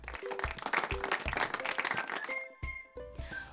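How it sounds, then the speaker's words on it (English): A short round of applause from a small group clapping together, steady and moderately close, with a few tonal musical notes sounding underneath. "Everyone clapped for Boaz being such a loving helper to his family."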